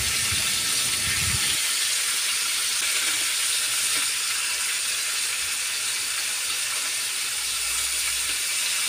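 Pompano fish being lightly fried in a pan for sinigang gives a loud, steady sizzle and hiss that runs unbroken throughout, with a brief low rumble near the start.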